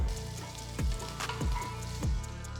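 Cumin seeds, red chillies and curry leaves sizzle in hot oil with a steady crackle under a low hum, broken by a few sharp pops and thumps.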